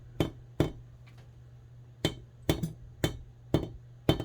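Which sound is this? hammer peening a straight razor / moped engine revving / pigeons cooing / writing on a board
hammer peening a straight razor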